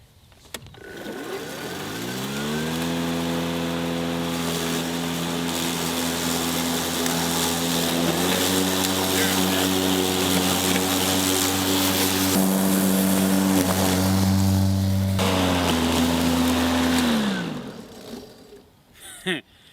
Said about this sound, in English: I'm gonna push propel this one more time, and you may hear